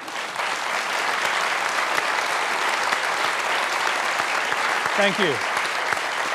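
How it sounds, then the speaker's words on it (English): A large audience applauds at the Sydney Opera House during a televised Q&A panel broadcast, a steady, dense wash of clapping that holds throughout, with a voice briefly speaking near the end. "a huge round of applause as well."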